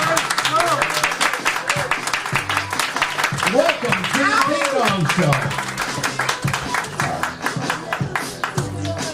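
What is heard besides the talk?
audience applause for a comedian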